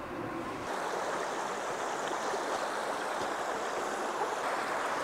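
A small mountain spring flows in a steady, close rush of water, a constant broadband gurgle that swells in after a brief quieter moment and carries on without talk.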